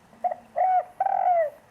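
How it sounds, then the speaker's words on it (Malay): A dove-like bird calls close and clear in three short cooing notes, the last longest and falling, set in a forest scene with no other sounds. "Merdu sungguh suara burung itu."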